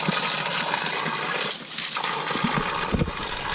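Clear spring water from a hillside source rushes and gushes down steadily, a loud continuous flow with occasional splashes.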